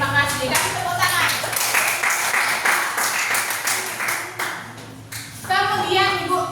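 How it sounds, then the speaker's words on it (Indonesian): Children clapping together in a classroom, a dense burst of applause filling most of the clip, with a teacher's voice and kids' chatter at the start and end. "Kasih tepuk tangan."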